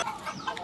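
A hen clucks once or twice in a short, close burst, light and slightly nasal, with faint background around it.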